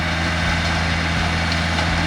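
A tractor engine idles steadily through the clip, a continuous low diesel drone with a firm low hum, close and even, from a field being planted for deer before dark.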